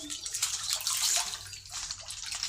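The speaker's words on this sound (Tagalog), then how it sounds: "Pwede ko nang isara itong gripo." Tap water pours steadily into a concrete pond stocked with African catfish, a continuous splashing hiss that holds fairly loud throughout with no talking.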